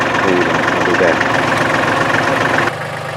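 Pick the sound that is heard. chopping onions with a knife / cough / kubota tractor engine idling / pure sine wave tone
kubota tractor engine idling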